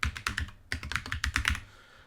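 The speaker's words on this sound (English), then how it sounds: "we're going to type our name" Quick bursts of keystrokes on a computer keyboard as a name is typed, close and fairly quiet, in two short runs separated by a brief pause.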